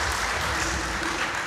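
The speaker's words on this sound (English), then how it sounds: "So another round of applause for Bella." A dense wash of applause rises from the crowd at a fa'afafine festival pageant for a performer named Bella, loud and sustained with a faint murmur of voices beneath.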